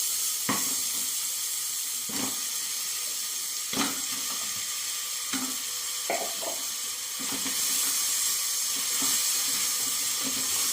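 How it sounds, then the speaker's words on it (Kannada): Goat trotters fry in a pan for soup, giving a continuous close sizzle with occasional stirring scrapes and clinks, and no talking. "ಸೊ ಅದನ್ನು ಸ್ವಲ್ಪ ಫ್ರೈ ಮಾಡೋಣ"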